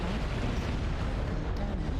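A big explosion in the MechWarrior mech combat game, with a dense, rumbling low roar that stays loud and steady for about two seconds and no voices over it.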